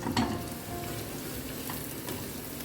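Onion with black pepper, cloves and cardamom frying in hot oil in a clay pot for mutton biryani, a steady close sizzle with a few scraping stirs near the start.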